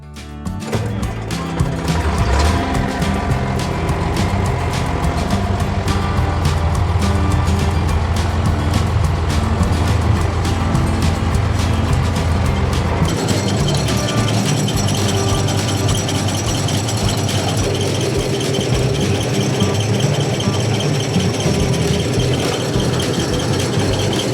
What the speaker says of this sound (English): I will run the tractor quickly and do a quick test run to see how it behaves here.